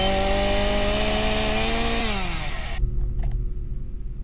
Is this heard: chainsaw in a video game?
yes